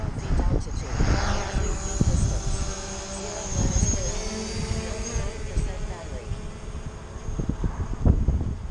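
Strong wind gusting on a blustery day with a north wind, rumbling and buffeting across the microphone in uneven surges, with a faint high whine of a drone overhead.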